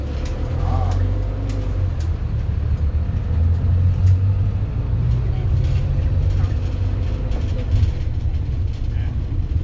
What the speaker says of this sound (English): it's a nice drive along the top of the ridge here